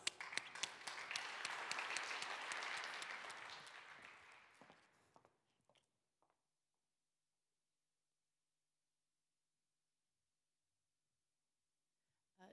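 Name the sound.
audience applause welcoming a speaker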